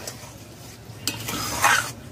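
Chutney for doi bora being stirred in a pan off the heat, with soft scraping and scattered spoon taps against the metal and a brief louder clatter near the end.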